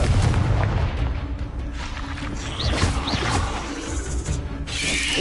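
A Confringo blasting spell cast in Hogwarts Legacy gives dense rumbling booms and crackling impacts that fill the whole stretch, with a couple of brief whooshing sweeps and a bright burst near the end.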